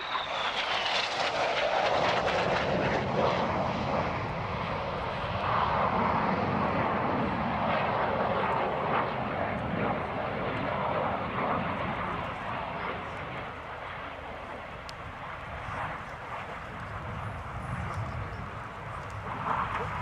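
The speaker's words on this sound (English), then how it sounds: "in the Revolution flying synchronised aileron roll manoeuvres" Red Arrows jets roar overhead at the Royal International Air Tattoo while flying synchronised aileron rolls, a loud sustained jet rumble that swells and fades slightly, with faint crowd and voices underneath.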